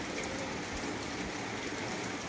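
Rain falls steadily on a rural village surrounded by chili gardens, a dense even hiss of drops on surfaces, continuous and moderately soft with no voices.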